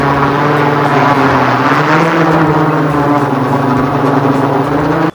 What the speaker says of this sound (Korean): 원격으로 드론을 조종해서 일정 지점에 아이템을 떨어뜨리는 게 가능해졌습니다